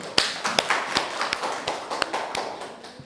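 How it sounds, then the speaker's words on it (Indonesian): A classroom group claps hands after a presentation: sparse, uneven claps at close range, a few distinct sharp hits standing out over a soft spread of lighter clapping, no talking. "tepuk tangan"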